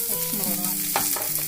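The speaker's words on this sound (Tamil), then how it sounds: "கேப்சிகம், கொஞ்சம் உப்பு போட்டு இதெல்லாம் வதக்கிட்டோம்." Chopped onion, carrot, tomato, green chilli and capsicum with salt being sautéed and stirred in a pan, a steady close sizzle with scraping stir strokes throughout.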